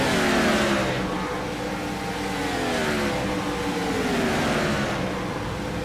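IROC Challenge Series race car entering the pit box at Chicago, engine note sliding downward as it slows, loud and close over a steady wash of track noise, no clear talking.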